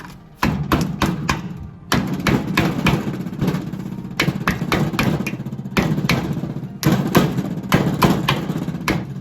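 GK Tech bushings being pressed into a Nissan 240SX S13 subframe: a series of sharp metallic hammer-like impacts come in rapid bursts with short pauses, loud and close, over a low mechanical hum, no voices.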